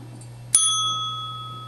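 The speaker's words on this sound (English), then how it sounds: "or maybe, just maybe, a call bell" A single bright strike on a call bell, one clear ding with a sustained metallic ring that slowly fades over a steady low hum.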